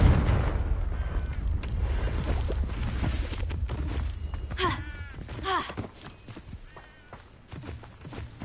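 Confringo fire spell blasts in Hogwarts Legacy, heard as repeated bursts and booms in a busy game soundscape, with whooshing tones midway and constant ambient rumble.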